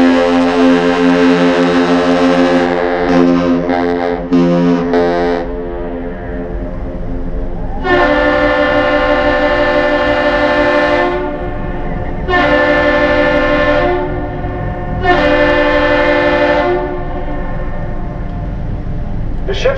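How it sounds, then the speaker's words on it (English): The freighter Paul R. Tregurtha sounds a captain's salute on arrival at Duluth: one long deep horn blast followed by two shorter blasts, loud and echoing across the harbor, with a brief sputter of horn sound at the start. "Captain salute. It consists of one long and two short blasts."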